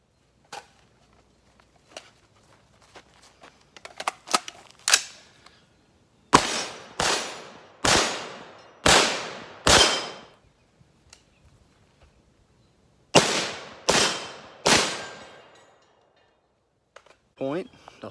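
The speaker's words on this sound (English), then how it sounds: "It shoots steel case ammo." Sig 716i rifle firing steel case ammunition outdoors, a series of sharp loud shots in two groups of rapid successive rounds, with ringing decay, preceded by quieter handling clicks.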